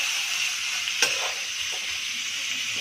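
Vegetables fry in a pan for egg chowmein, a steady soft sizzle with one sharp clack of a utensil near the start and a few faint scrapes, no talking.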